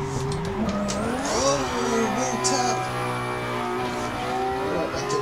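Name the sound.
180SX car drifting in video game Assetto Corsa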